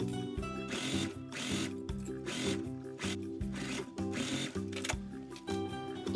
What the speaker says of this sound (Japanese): 今ここを1回縫ってきました。